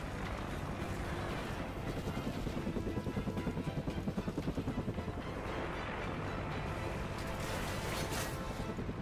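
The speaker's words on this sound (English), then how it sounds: "Friendly chopper inbound." A helicopter in the Old Ghosts video game makes a loud, rhythmic rotor chop that pulses steadily over a dense mechanical roar of battle noise.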